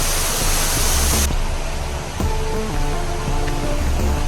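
Water pours and rushes continuously at Surathali Ella waterfall, a loud, close, steady roar with faint tonal traces underneath and no speech.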